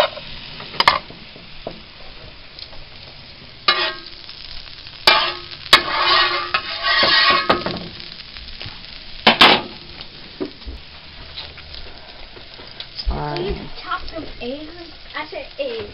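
Sausage and banana pancakes fry in a pan, a soft steady sizzle broken by scraping utensil strokes and clatter, with a voice chiming in now and then.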